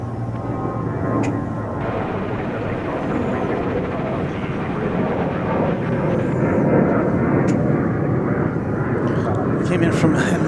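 Boeing 787 Dreamliner taxiing at DFW airport after landing, a steady broadband engine roar and whine filling the scene, with a voice talking over it.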